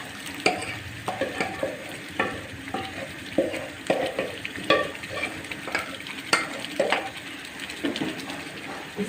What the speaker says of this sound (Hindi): इस पर बहुत तेज़ आंच हुई है, मैं इसको अच्छे से मिक्स करूँगी।